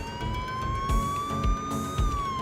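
A police car siren in Farming Simulator 17 wails steadily with a slowly rising and falling pitch, loud and close, over a rumbling engine and a few low thumps.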